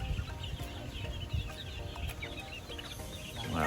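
Chickens and young chicks on a gamefowl farm, busy close clucking and peeping over a low rumbling background, with no speech.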